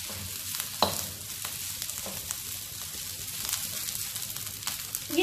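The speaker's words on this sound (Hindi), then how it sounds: "इसको भी अच्छे से मिक्स कर लीजिए।" Egg fried rice made with leftover rice, sizzling in a hot pan while being mixed, a dense steady hiss broken by scraping stir strokes and small clacks throughout.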